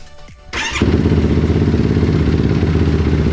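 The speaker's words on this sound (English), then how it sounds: "We're gonna fire her up." A Yamaha YFZ450R ATV, just off the jack and out of gear, cranks over with a brief starter whir and then catches into a steady, loud, close-up idle with a rapid, even thrum.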